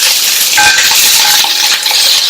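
Chopped onion, broken dried chilli and curry leaves sauté in a hot pan for a radish side dish, giving a steady bright sizzle with light scraping stirs and no talk.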